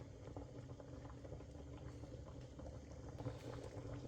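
Rice simmering in a pot with coconut cream for Puerto Rican yellow rice, a steady dense bubbling boil that runs continuously and fairly close, with no talk over it.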